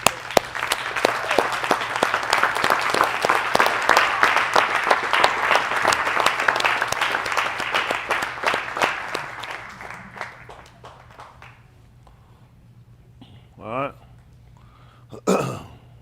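A livestream audience claps together for about ten seconds, a dense loud patter of many hands that gradually thins and fades out, followed by quieter moments with a few scattered voices.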